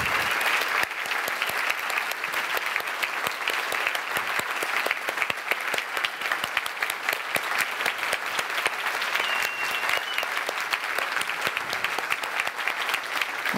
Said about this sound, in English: Yeah, you can applause as they come.